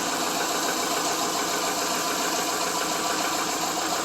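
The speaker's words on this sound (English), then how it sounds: "the engine runs so much smoother now just by retiming it again" A 2001 Legacy engine, freshly retimed after running rough and overheating following an upper hose replacement, runs with its cam covers off, a steady, close mechanical clatter and hum that holds constant throughout, with no talk.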